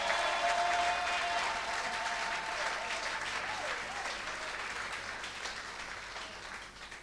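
A church congregation applauds, a dense, sustained wash of clapping that stays steady and slowly fades slightly toward the end.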